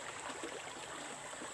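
A river stream flowing like a spring, with steady faint broadband rushing and trickling water throughout, no voices.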